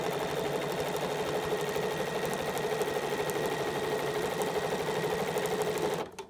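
A sewing machine runs steadily as it quilts through a placemat sandwich, a close, continuous mechanical whir and rapid needle chatter that cuts off abruptly near the end.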